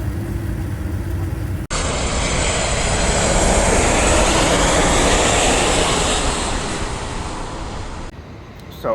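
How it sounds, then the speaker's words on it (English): A jet airliner comes in to land at an airport, its broad roar swelling loud overhead, then fading as it passes. The sound fills the air outdoors. "just watching some airplanes landing"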